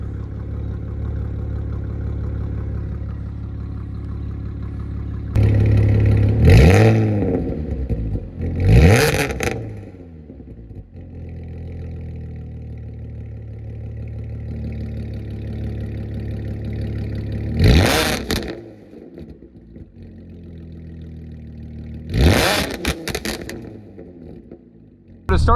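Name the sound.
ARMYTRIX valved exhaust on Audi B8.5 S, valves closed, cruising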